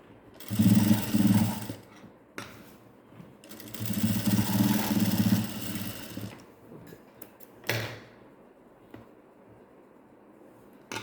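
Sewing machine stitching a V-patti hook strip in two loud bursts of rapid whirring, separated by a pause, followed by quieter handling noises and a brief thud.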